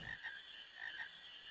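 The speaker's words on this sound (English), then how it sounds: "Can't master art of eating, just chasing frogs, Queena." Frogs croak in Final Fantasy IX, a faint chorus of repeated raspy calls in an ambient game scene.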